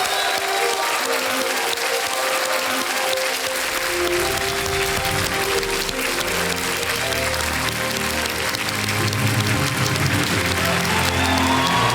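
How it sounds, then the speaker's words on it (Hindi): Studio audience applause for sprinters Dutee Chand and Hima Das on a TV quiz show set, a loud, dense wash of clapping and crowd noise that builds and holds steadily throughout. "दोनों का स्वागत किया जाए तालियों के साथ"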